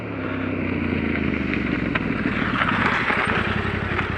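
A T7 motorcycle approaches with a steady engine drone that builds gradually over several seconds, moderately loud, with no speech.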